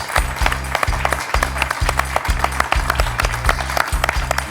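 Studio audience applause for a contestant on the French quiz show Questions pour un champion, a bright rush of clapping over a loud, rhythmic musical jingle with a pounding beat.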